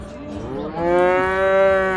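Cattle at the Tokmok livestock market in Kyrgyzstan give a single long, loud moo that swells and holds near the end, with faint market background beneath and no talk.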